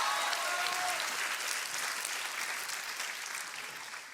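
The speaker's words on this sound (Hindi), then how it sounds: "तालियां हो जाए, तालियां" Applause from a studio audience at a kids' talent show, a dense, bright wash of many hands clapping at once, steady and fairly loud, easing slightly toward the end.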